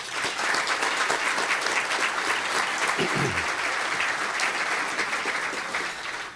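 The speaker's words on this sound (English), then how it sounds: "thank all the firefighters that are working on our behalf and recognize them with a round of applause" An audience at a city government event gives firefighters a round of applause: a dense, steady wash of clapping that fills the whole stretch at an even level.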